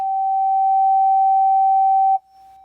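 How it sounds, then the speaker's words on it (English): A wine glass rings with a steady, pure tone from a played sound for about two seconds, then the sound cuts off abruptly, leaving the glass's fainter lingering ring at the same pitch. "the glass was still ringing out, even after I turned off the sound"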